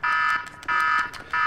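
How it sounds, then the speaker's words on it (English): An alarm buzzer in the video game GTA V blares in three loud, sustained bursts with short gaps between them, a harsh electronic tone heard on its own. "Buzzer's going, but it doesn't matter."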